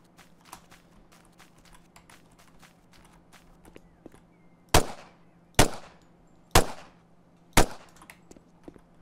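Gunfire in the open-world looter shooter Xera: Survival: four loud, sharp shots spaced about a second apart, after a stretch of soft clicks and light steps, with no talking.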